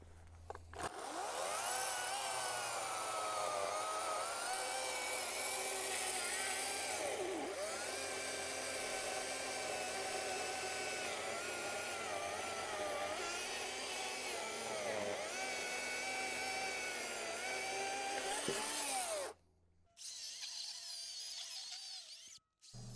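An Echo chainsaw, which has been giving trouble, runs loud and steady for about twenty seconds, its pitch dipping slightly under load, then cuts out briefly before revving again.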